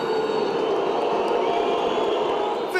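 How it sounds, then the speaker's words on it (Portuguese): Football crowd in the stands at a Cruzeiro home match against Goiás booing at half-time: a sustained, dense roar of disapproval from a large crowd, steady and loud throughout. "Fim de primeiro tempo e vaias das arquibancadas."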